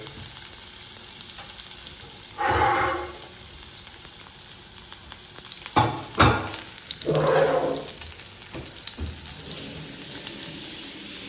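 Garlic frying in oil in a pan for beef heart curry, a constant crackling sizzle broken by a few louder stirring scrapes and splashy bursts, no voices.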